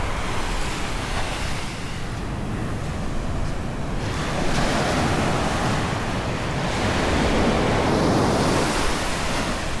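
Ocean surf at a beach surf spot in Casiguran, Aurora: a continuous loud wash of breaking waves with heavy wind buffeting the microphone, with no voices.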